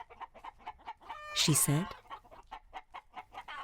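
Hens cluck steadily and rhythmically close by while a woman feeds them, with a brief spoken line and a louder squawk breaking in midway before the even clucking resumes.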